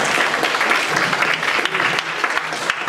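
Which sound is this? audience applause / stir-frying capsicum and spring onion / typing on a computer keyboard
audience applause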